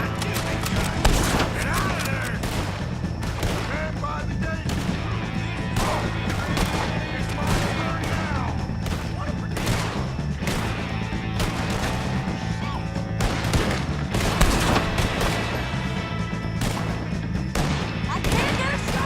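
Continuous dense gunfire and crashing shots fill a firefight in Red Dead Redemption II, loud and unbroken throughout, with a voice now and then over the shooting.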